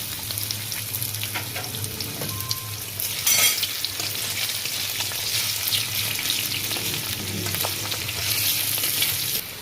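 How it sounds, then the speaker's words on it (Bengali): Potatoes fry in hot oil in a wok, the same oil just used to fry minced chicken for a keema chochchori, giving a steady close-up sizzle and crackle that brightens briefly partway through, with no talking. "ওই তেলে আমি একটু আলুগুলো ফ্রাই করে নেব"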